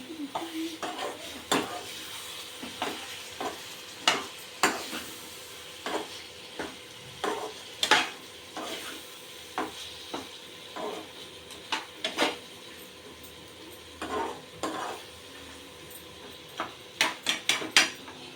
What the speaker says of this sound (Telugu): ఇదే స్టేజీలో టమాటాలు వేసి మంచిగా కలుపుకుందాము